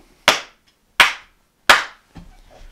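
Three sharp hand claps at an even pace in a home studio near a kitchen, each with a short reverberant tail, followed by a faint softer sound, with silence between.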